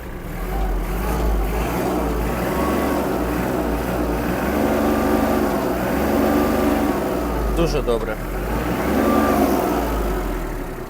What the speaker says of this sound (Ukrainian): Так як і має працювати трьохциліндровий двигун 33 кінських сили